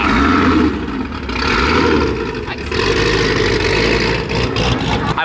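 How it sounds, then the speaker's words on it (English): A Hennessy Exorcist roars loudly and close by, its heavy engine revving in deep surging pulses over a continuous throaty rumble. "Hennessy Exorcist. That is loud."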